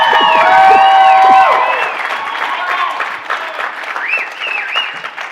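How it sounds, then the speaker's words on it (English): An audience at a panel discussion on the state of supplements bursts into loud applause with some cheering and whoops, strongest at first and then thinning into scattered clapping as voices rise through it. "I'm hearing a lot of applause"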